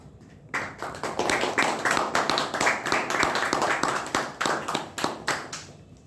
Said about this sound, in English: A big round of applause for everyone for assembling here and starting the meeting at right time